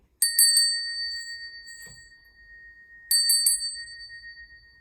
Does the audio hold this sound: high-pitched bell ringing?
yes